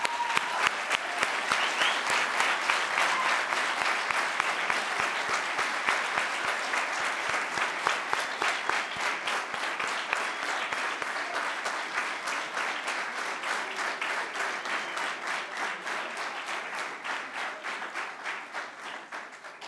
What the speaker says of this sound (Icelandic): ég held við ættum að gefa þessum flottu efnilegum krökkum gott klapp.